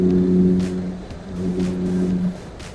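A 1999 Morgan 4/4 four-seater accelerates, its engine note droning steadily, dipping briefly, then rising again before easing off, heard from close inside the car with no talk.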